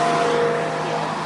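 A Porsche accelerating hard at an exotic car show in Merrimack, its engine giving a loud, steady, close roar throughout.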